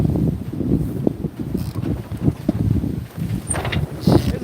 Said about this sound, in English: It's probably a little windy out here.